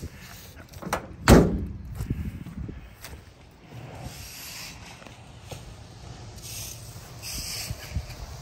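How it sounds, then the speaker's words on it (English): A 1969 Volkswagen bay window Westfalia camper bus side door slides and shuts with one sharp loud slam near the start, then softer rubbing and clunks continue under faint background noise. "Side door opens and closes nicely."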